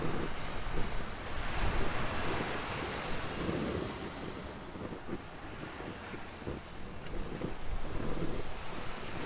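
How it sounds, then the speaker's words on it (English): Wind blows onshore across a beach during an overnight fishing camp, with steady surf roaring and rumbling microphone buffeting that swells and eases throughout. "Wind's coming straight in this way."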